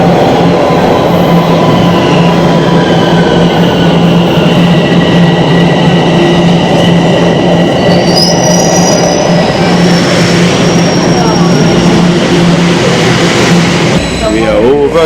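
A subway train rumbles along loudly while its wheels squeal in long, wavering high-pitched tones, with rhythmic rail clatter underneath throughout.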